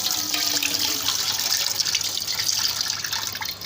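Urad dal being washed in water while soaking for idli, a continuous close hiss of running and sloshing water with faint splashes and drips, steady for several seconds with no talking.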